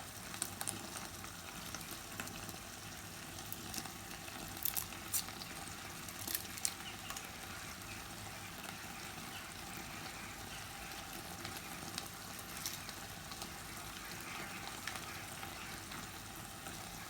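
Chicken gizzards cooking in a pot with vegetables and seasoning, a steady close sizzle and bubbling with occasional stirring scrapes and clinks, continuous with no talk.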